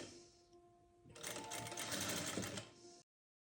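A sewing machine stitches the side seams of a shirt cuff, its steady mechanical whirr starting after a quiet moment and running loud and continuous for about two seconds before stopping abruptly.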